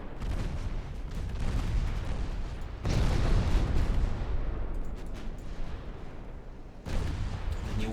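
Naval artillery and explosions from Ultimate Admiral Dreadnoughts, a dense, continuous rumble of heavy booms and blasts with sharp new salvos cutting in, loud and sustained, no voices.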